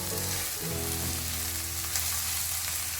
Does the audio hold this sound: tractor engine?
no